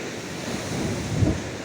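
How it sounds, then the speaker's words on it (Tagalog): Strong ocean waves surge and crash against a seawall in a continuous, loud, roaring wash with wind buffeting the microphone. "Malakas ang alon"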